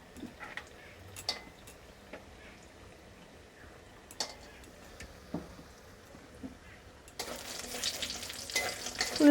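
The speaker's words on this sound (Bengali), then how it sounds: "প্রথমে আমি বড়িগুলো ভেজে নেব" Bori lentil dumplings frying in hot oil for shukto make a quiet, steady sizzle with scattered ticks and pops, swelling into a louder, brighter hiss near the end.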